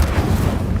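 Incendio fire spell cast in Hogwarts Legacy: a short, loud, booming whoosh of flame that fills the whole moment, dense and rumbling with no pause.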